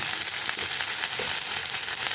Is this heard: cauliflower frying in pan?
yes